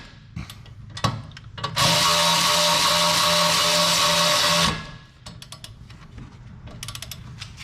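A hand ratchet snugs down the 14 mm brake caliper bracket bolts in a garage, a loud, rapid continuous clicking for about three seconds, with light tool clinks and handling noises before and after.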